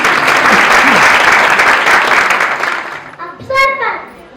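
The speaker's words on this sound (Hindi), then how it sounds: "तालियां।" A school audience claps for about three seconds at a Grandparents Day celebration at GD Goenka, Agra, a dense, loud burst that thins out before a voice speaks briefly at the end.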